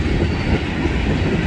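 A long freight train rolls past at close range near Sweetwater, Tennessee, its wheels and cars producing a loud, continuous rumble and clatter with no break.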